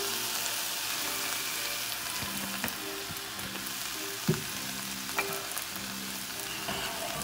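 Olive oil crackles and sizzles in a hot pan with a steady frying hiss and occasional sharper pops, heard alone without talk.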